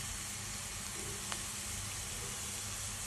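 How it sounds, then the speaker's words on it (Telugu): Food frying in a pan with browned ingredients before garam masala goes in, giving a steady, soft sizzle that runs on its own throughout with no voices. "కొంచెం ఫ్రై చేయాలన్నమాట"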